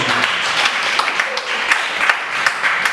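A church congregation claps together in a dense, steady burst that stays loud and continuous throughout, with voices mixed into the applause.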